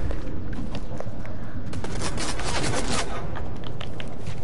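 Video game gunfire, dense rapid bursts of shots crackling close and loud over a rumbling background, continuing through with brief pauses.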